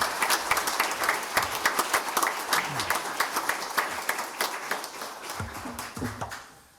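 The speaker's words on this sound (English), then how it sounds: "A round of applause for all those agencies." A crowd applauds steadily, a sustained round of clapping that fades toward the end.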